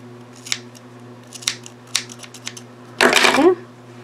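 Scissors snip a strand of crochet yarn: a few light isolated clicks as the blades open and close, then one firm, louder cutting snip, close up over a low steady hum.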